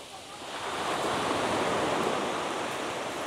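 Sea waves surging onto the shore at Durdle Door, a steady broad wash of surf that swells slightly and holds loud for the whole stretch, with no voices.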